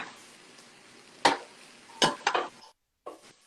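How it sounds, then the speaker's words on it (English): Chicken and shrimp fajitas stirred in a pan, a soft steady sizzle broken by a few sharp scraping clatters of a utensil against the pan, then a brief pause and one more scrape. "So you just keep stirring."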